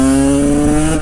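A cheap road-legal 125cc two-stroke motorcycle accelerating hard in third gear, its loud buzzing engine note rising steadily in pitch for a single continuous second, close and unbroken.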